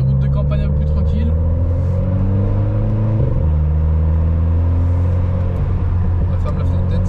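A car engine revs through a GT Perf exhaust silencer on quiet country roads, its loud, close droning pitch climbing and dropping as it accelerates, with people talking over it.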